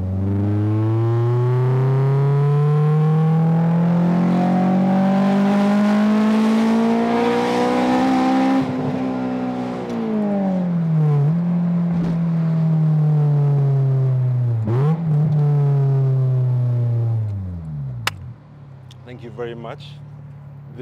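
A Honda S2000 sports car revs close by, its engine note climbing steadily and then dropping through repeated rises and falls, loud and sustained, with brief gear-change dips before it settles toward idle.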